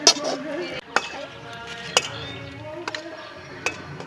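Milk Bikis biscuit halwa is worked with ghee in a pan, sounding as a soft scraping stir punctuated by a few sharp clicks of a spoon against metal. A voice speaks faintly in the background.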